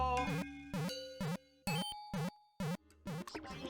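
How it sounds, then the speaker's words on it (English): In Mario Maker 2, a buzzy beetle shell bounces across music blocks, striking a series of soft, reverberant vibraphone-like notes in an uneven rhythm over a quiet ambient background. "The buzzy beetle shell produces a nice, reverby, vibraphone-esque sound."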